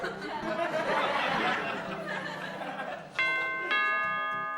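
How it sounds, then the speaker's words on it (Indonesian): After noisy chatter and laughter indoors, a doorbell rings out twice in quick, clear chimes near the end. "Ada bel, noh."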